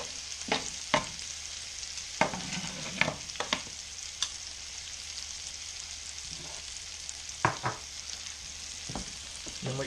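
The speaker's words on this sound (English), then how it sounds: "just baste that loin with all that butter and all that garlic" Venison loin frying in a pan with butter and garlic, a steady close sizzle with scattered spits and pops, and several louder clatters of the pan or a spoon while the hot butter is basted over the meat.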